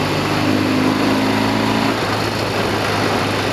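A Norton Commando 750 motorcycle with twin Amal carburettors runs at a steady idle, a close, loud, continuous engine drone with a constant low rumble.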